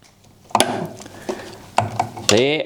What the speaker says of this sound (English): Now I need to remove these filters, so I'm going to pull them up and slide them forward and just unscrew there